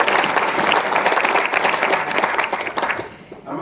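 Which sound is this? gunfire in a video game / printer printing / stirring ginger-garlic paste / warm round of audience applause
warm round of audience applause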